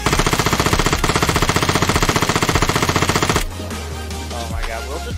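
Video game gun in Vigor firing a long rapid automatic burst, loud and evenly rhythmic, then cutting off to quieter background sounds.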